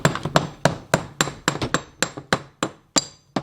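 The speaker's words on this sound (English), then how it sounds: "What if I hammer at the same time?" Steady hammer blows, about a dozen sharp metallic strikes in a fairly even rhythm, drive a CV axle into place on a car, loud and close with no talk.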